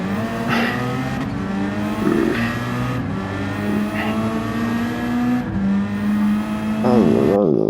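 A mid-rear turbocharged race car in Gran Turismo 7 drones loudly and steadily, its engine pitch climbing and dropping through gear changes, with a brief tire squeal near the end.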